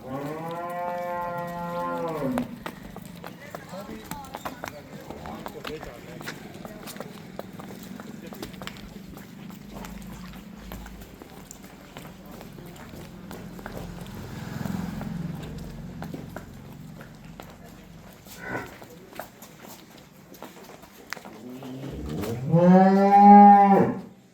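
A young buffalo that has calved once lets out a deep, drawn-out low at the start and again, louder and closer, at the end, with people talking in between.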